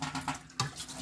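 Running water at a tap as a child washes, a steady splashing flow with a sharper splash midway, close and without talk.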